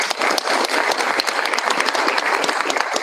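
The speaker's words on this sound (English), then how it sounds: "I think that deserves a round of applause" Steady round of applause from an audience at a school board meeting, dense clapping filling the room at even loudness throughout, with no talk over it.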